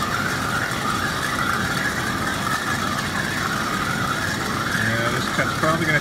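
An EDM machine cutting metal gives off a steady, continuous mechanical whir and buzz that holds at an even level for the whole stretch, with a few faint tonal blips near the end.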